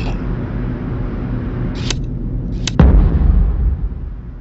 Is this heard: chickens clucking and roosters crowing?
no